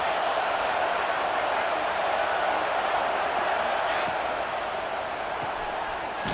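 Stadium crowd noise from the College Football 26 video game: a steady, dense roar that holds at an even loudness throughout, with no distinct spoken words.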